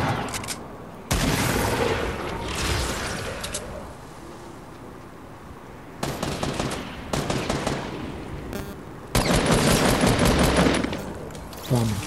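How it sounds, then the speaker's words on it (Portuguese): Bursts of gunfire in Fortnite come in dense rapid volleys, several loud clusters of automatic shots separated by quieter stretches of ambient game sound. "Ó, tem alguém atirando, tá vendo?"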